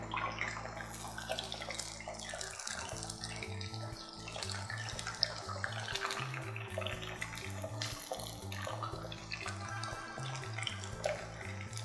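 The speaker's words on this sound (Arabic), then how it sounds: "صف المية كويس وننزل" Water runs steadily from a tap while it drains off food being cooked for a rice dish, a constant splashing rush that lasts the whole stretch, with faint rhythmic music playing underneath.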